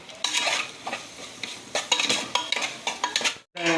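Homemade chilli masala is stirred and turned in a hot pan, with repeated scraping strokes over a soft sizzle, close and fairly loud, and a short cut near the end.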